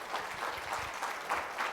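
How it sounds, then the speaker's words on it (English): An audience at a talk on nonprofit efficiency gives a steady, moderately loud round of applause, heard alone without speech. "Round of applause for HomeFree-USA."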